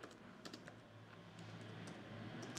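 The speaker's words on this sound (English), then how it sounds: "For example, I need to type America." Someone types on a computer keyboard while entering data in a spreadsheet, producing faint, quick key taps in a short, irregular run over a low background hum.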